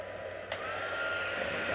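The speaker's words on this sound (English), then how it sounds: "So now I'm just going to hold the heat tool over these images, and you'll start to see this start to melt" Embossing heat tool blowing hot air to melt embossing powder, a steady close whirring hiss like a hair dryer that runs continuously, with a small click as it starts up.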